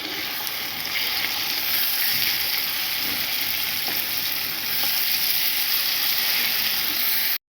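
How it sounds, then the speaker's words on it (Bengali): Prawns frying in a pan with bitter gourd and onion, a steady loud sizzle that runs throughout, with occasional scraping of the spatula as they are stirred. "এবার দিয়ে দেবো চিংড়ি মাছ। ভালো করে নেড়ে নেব।"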